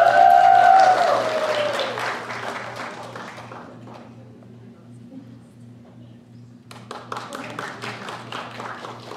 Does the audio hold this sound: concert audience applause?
yes